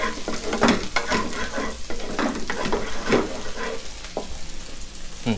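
Pounded chillies are stir-fried in hot pork fat, with a busy crackling sizzle and quick scraping stirs, loud and close throughout.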